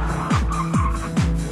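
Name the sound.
Dodge Viper SRT10 sports car driving, tires squealing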